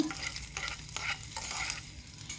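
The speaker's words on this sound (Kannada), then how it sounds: "ಈಗ ಇದು ಒಗ್ಗರಣೆನ ಇದಕ್ಕೆ ಹಾಕ್ಕೊಳ್ತಾ ಇದ್ದೀನಿ ಈ ಕೋಸಂಬರಿಗೆ" A hot mustard seed tempering is poured and stirred into a chana dal kosambari salad, giving a close, steady sizzle and crackle with scraping stir sounds throughout.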